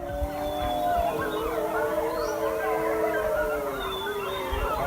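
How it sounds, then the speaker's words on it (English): Animals howl on a mountainside in long, wavering, gliding calls that overlap and rise and fall steadily. No distinct barks stand out. "he heard what sounded like barking and howling on the mountain"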